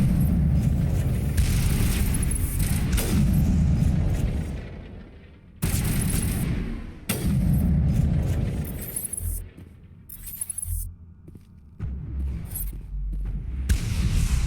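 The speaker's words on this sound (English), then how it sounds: "That missile just went through." Heavy, booming missile blasts and roaring impacts in Mass Effect 1 fill several long loud stretches, broken by sudden drops to quieter moments and brief high crackles.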